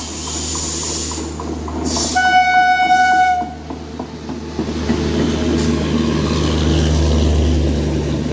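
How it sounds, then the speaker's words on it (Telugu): A Hyderabad MMTS local train approaches from the Charlapalli side. A sustained horn blast sounds over low rail rumble and station noise, with a shorter horn note near the start and a steady engine drone afterward. "చర్లపల్లి సైడ్ నుంచి వస్తుంది ఇంకో ట్రైను"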